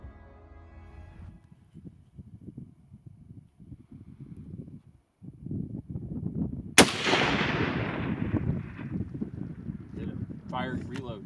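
A rifle fires once, sharp and loud, while hunting desert bighorn sheep in Mexico. The crack comes midway after quiet talking and rumbling wind, and an echoing rumble trails off behind it as voices go on.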